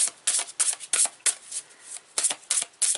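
Tarot cards are riffled and shuffled in quick repeated bursts, crisp papery flutters close by, with short pauses between each pass.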